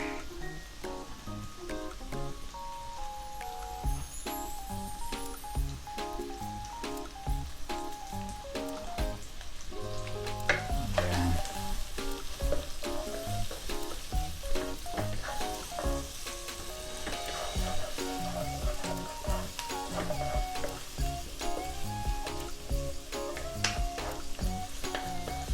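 Garlic and onion sautéing in a pan for spareribs humba, a steady crackling sizzle running throughout beneath prominent background music, with no talking.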